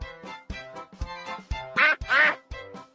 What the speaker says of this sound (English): This is a duck. My friend the duck likes the water.